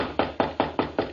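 Knocking on a door in a 1948 radio drama, six firm evenly spaced raps in quick succession, close and fairly loud with no voices.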